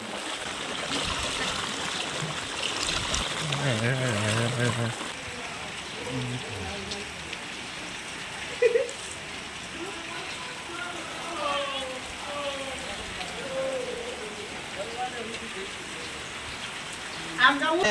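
Continuous heavy rain pours down over flooded roads beside a swollen river, a steady dense hiss of drops on surfaces and running water throughout, with someone talking intermittently over it.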